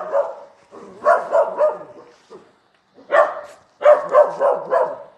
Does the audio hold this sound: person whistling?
no